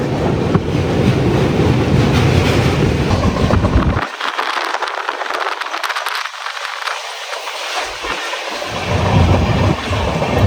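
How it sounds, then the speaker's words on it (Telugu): Mumbai LTT to Kakinada Port Express running near the Godavari river, a loud steady rumble of wheels and carriages that drops to a thinner rattle midway, as on a bridge, then swells again. "మన ట్రైన్ ఏమో ఏలూరు నుంచి ఎగ్జిట్ అవుతుంది"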